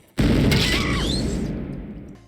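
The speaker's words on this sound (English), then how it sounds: "Only to blow it up with dynamite." A cartoon dynamite blast bursts suddenly, a loud broadband boom with crackling debris and a faint whistling tone, then a long rumbling decay fading away.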